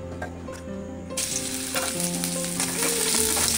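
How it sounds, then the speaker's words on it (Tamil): Adamant creeper (pirandai) fries in sesame oil in a pan, a loud continuous sizzle that brightens and intensifies partway through as the pieces are stirred, with no talking. "பிரண்டைகளை வதக்கிக்கணும்."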